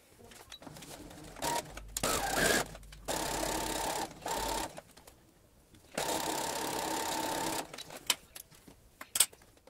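A sewing machine stitches fabric pieces together in several bursts of steady whirring, the longest around two seconds, separated by pauses with faint handling noises.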